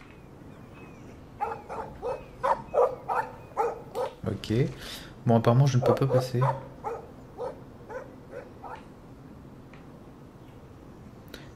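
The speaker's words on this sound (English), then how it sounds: "Stop that! Stop! No barking." A dog barks and yips several times in the video game Life is Strange, short sharp calls repeating under steady talking.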